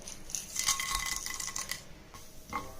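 Chana dal and mustard seeds splutter in hot oil in a home kitchen while dosa palya is prepared: quick, dense crackling and popping with bright clicky bursts, fading then flaring again near the end, with no talking.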